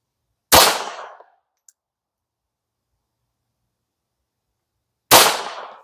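Two sharp, loud .22LR shots from a Hammerli Forge H1 1911 pistol, spaced about four and a half seconds apart, each a crisp crack with a short ringing decay.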